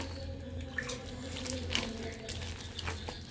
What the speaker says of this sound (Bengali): তারপরে আমি এখানে জল দেবো, অল্প অল্প জল দিয়ে এটাকে ভালো করে এভাবে চটকে নেব।